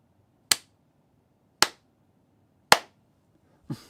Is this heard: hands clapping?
yes